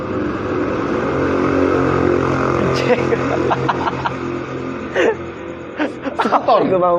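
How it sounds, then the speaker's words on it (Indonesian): A motor scooter passes by outdoors with a steady engine drone that swells and fades, mixed with people talking and chuckling nearby. "Tadi ada skuter ya, skuter lewat"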